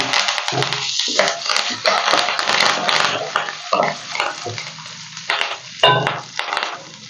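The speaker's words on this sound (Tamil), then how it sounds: "எல்லாத்தையும் சேர்த்து நல்லா வறுத்து விட்ருங்க ஒரு ரெண்டு கொத்து கருவேப்பிலை சேர்த்துக்கோங்க" Curry leaves and lentils crackle and sizzle in hot oil in a pan for lemon rice, a loud, continuous spitting fry with sharp pops, heard close with no talking.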